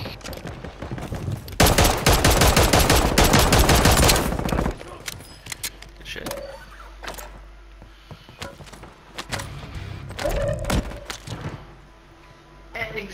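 Rapid Call of Duty gunfire in a loud, dense automatic burst of about three seconds, followed by scattered sharp single shots and thuds across the rest of the match.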